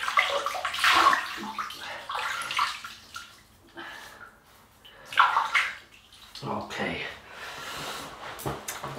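Running water from a tap splashing into a basin to wet the face before a shave, coming in uneven bursts and pauses, close by.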